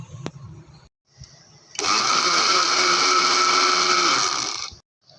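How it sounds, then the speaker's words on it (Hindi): An electric mixer grinder blending sugar, milk, cream and coffee for cold coffee: after a few soft clinks, the motor spins up and whirs loudly and steadily for about three seconds, then stops abruptly. "अब हम इन दोनों चीज़ों को ग्राइंडर के जग में डालेंगे और बीट करेंगे।"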